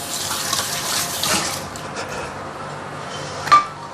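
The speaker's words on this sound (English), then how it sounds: "so let me wash this plate" Plate being washed under a running kitchen tap, steady splashing water with soft clinks of dishware and a brief sharper knock near the end.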